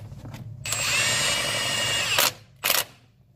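An electric power tool, likely a drill or impact driver, runs the crank bolt onto a Honda CR-V engine's crank pulley, a steady whine of about a second and a half followed by a short second burst, close and loud with no talk.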